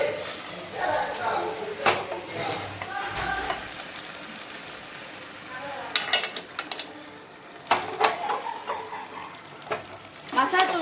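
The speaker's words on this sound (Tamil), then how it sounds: "மசாலா தூள்லாம் போட்டு நல்லா வதக்கிடுங்க." Chicken curry with potato being sautéed with masala powders and Kashmiri chilli powder, crackling and sizzling in the pan with spoon scrapes and clinks against the pot, while someone talks over it.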